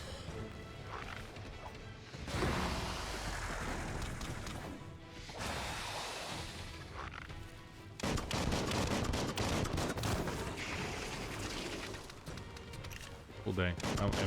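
Gunfire and crashing impacts from enemy ranged weapons in the video game Biomutant come in dense, repeated bursts over a loud, busy game soundscape, with a voice talking at points.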